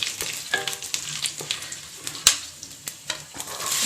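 Cumin seeds and pepper sizzle and pop in hot oil in a kadai, a steady close crackle with sharp spits and occasional stirring scrapes, no voices.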